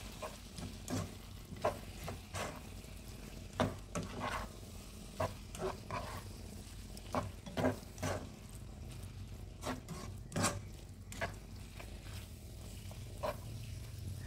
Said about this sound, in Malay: Tambahkan sedikit garam. Kacau-kacau sehingga sebati.